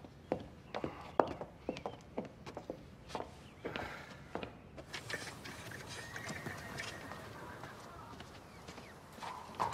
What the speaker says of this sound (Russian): Лошади готовы.